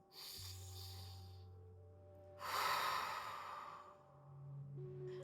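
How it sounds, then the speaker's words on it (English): A single deep breath drawn in during a guided hypnosis session, an audible inhale-exhale swell rising midway and fading, heard close over a soft steady background hum. "Let's take a deep breath."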